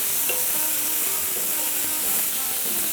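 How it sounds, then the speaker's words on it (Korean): Ground meat stirred and broken up in a hot frying pan while making jjajangmyeon, a steady close sizzle and hiss with faint scraping, no talking. "간고기는 이렇게 조금 풀어주셔야 돼요"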